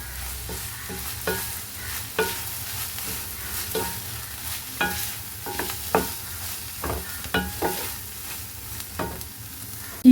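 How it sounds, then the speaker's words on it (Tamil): Moringa leaves being sautéed in a pan for a moringa-leaf dosa, with a steady low sizzle under repeated sharp spatula scrapes and taps that come irregularly throughout, close and clear, with no talking. "கீரை வந்து சும்மா வதக்கக்கூடாது இது நம்ம சாப்பிட்ற அளவுக்கு கொஞ்சம் வதக்கணும்"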